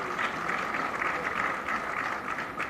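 Steady audience applause greets the Chief Minister of Karnataka at the STONA 2023 closing ceremony at BIEC, Bengaluru, a dense, even patter of many hands clapping throughout, fairly close and loud.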